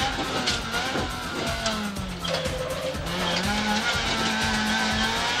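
A rally car on a British Rally Championship stage slides through a corner on the handbrake, its tyres skidding and squealing over a loud, steady engine drone with a few gear shifts from on board.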